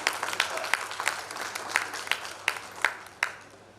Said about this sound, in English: A big round of applause for the